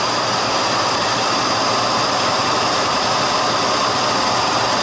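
Simplicity Riccar vacuum cleaner, a brand-new floor model with all filters in place, running steadily during a HEPA particle test; a loud, continuous broadband whoosh with a constant motor hum throughout, no talking.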